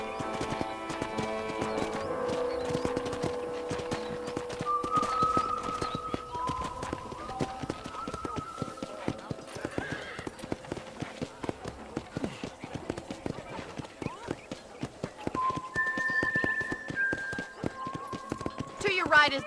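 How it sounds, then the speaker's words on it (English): Horse hooves clip-clop at a steady walking pace on a ranch in the Red Dead Redemption video game, with an occasional whinny, running continuously beneath spoken dialogue and soft sustained musical tones. "I picked out a fine horse for you"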